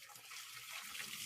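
Boiled potatoes and their hot cooking water poured out of a pot, a steady, close, hissing gush of water that runs for the whole moment with no talking.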